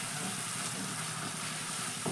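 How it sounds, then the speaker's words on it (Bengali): Spice paste frying in a pan after water is added, a dense, even hiss of sizzling that runs unbroken and fairly close, with no voices. "এবার জলটা দেওয়ার পর মশলাটা কিন্তু ভালো করেই কষিয়ে নেব"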